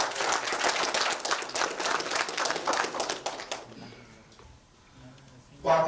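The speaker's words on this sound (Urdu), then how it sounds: "میرے خیال سے بھرپور تالیوں کے ساتھ" A mushaira audience in Al-Khobar applauds with dense, steady clapping for about three and a half seconds before it fades out, leaving a quiet room.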